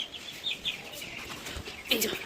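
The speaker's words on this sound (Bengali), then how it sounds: "দেখো এটা বলে মোরগ, এটাই সবচেয়ে বড় হয়েছে" A rooster in a newly built chicken house in Bengal gives short clucking calls and a brief crow-like burst near the end, heard up close over faint background noise.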